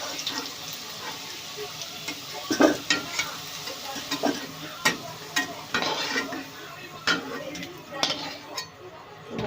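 Potatoes frying in oil for jhinge aloo posto, a crackling sizzle punctuated by repeated sharp clinks and scrapes of a spatula against the pan, close and uneven in rhythm.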